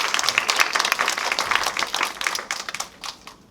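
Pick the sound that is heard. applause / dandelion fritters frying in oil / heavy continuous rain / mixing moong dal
applause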